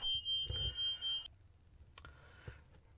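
A high-pitched smoke alarm, set off by burning food, beeps in rapid pulses, then cuts off, leaving a quiet room before a shorter faint tone returns.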